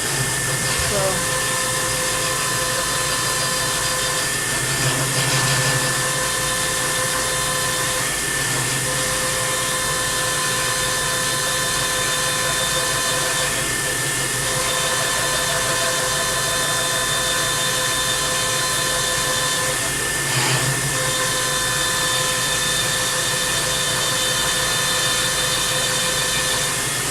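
A variable speed belt-driven milling machine drills into a steel vise bracket with a steady, loud whirring hum and a few brief bumps, while someone talks over it.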